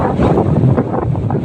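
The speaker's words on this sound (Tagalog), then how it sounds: "Sobrang lalaki po ng alon." Strong northeast monsoon wind buffets the microphone with a constant roar, while heavy surf of very large waves rumbles and crashes underneath without pause.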